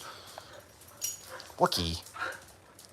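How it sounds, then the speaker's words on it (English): Herding dogs playing together, giving a few short yips and whimpers close by while a person speaks over them. "They're herding dogs, so he likes to try to herd her and like snip at her back legs."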